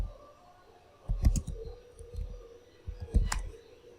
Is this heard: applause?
no